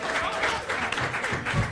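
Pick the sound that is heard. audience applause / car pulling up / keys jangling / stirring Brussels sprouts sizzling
audience applause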